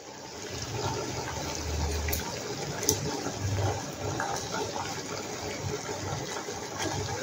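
Sugar syrup for roshbora, a Bengali urad dal sweet, boils in a pan with a steady bubbling, gurgling hiss, moderately loud and continuous, with a few brief clinks.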